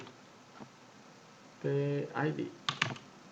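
Computer keyboard keys tapped to type PID into MATLAB, a few sharp clicks near the end following a stretch of speech, with faint isolated taps before it.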